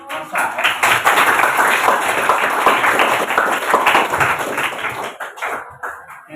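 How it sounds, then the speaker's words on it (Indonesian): Classroom audience applauding a student, a sustained burst of many hands clapping for several seconds that thins out toward the end, with voices mixed in. "Aplaus untuk Mansa."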